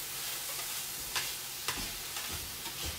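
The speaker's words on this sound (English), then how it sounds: "Let's give this fajita a stir." Fajita strips sizzle steadily in a hot pan, with a few sharp scraping clicks as they are stirred, close and fairly quiet.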